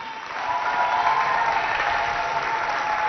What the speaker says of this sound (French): On applaudit pour Hawa Mangoussi.